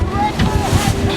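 Wind gusting to 30 knots buffets the microphone on a sailboat in steady rushing gusts over churning water, a loud broadband roar that swells and dips without pause.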